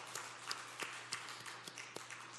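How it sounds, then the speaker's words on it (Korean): Faint, scattered hand claps from a church congregation during a Sunday service, sparse and uneven over a low hum, with no speech. "우리 박수 한번 해주시기 바랍니다."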